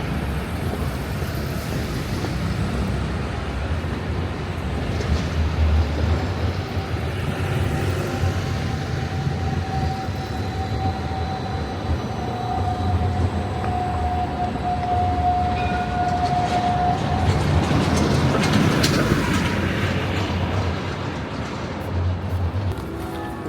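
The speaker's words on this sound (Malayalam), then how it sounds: "അടുത്ത ട്രാം വരുന്നുണ്ടല്ലേ." A tram rolls past on a busy Edinburgh city street, its steady rumble blending with traffic noise and a thin sustained tonal whine that rises mid-pass, loud and continuous for the whole stretch.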